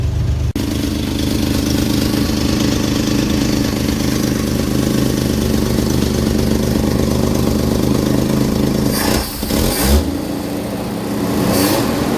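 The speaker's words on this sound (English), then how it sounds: "this thing just sits here and idles. It's running great." A V8 engine in a 1966 Chevy van starts and settles into a steady, close, rumbling idle, with a brief blip of revs and a rattle toward the end.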